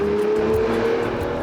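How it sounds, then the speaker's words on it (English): A 6-litre V12 car engine roars steadily and loudly with a sustained, even drone and no break, close and dense throughout. "That engine is a wailing, singing monster of a thing."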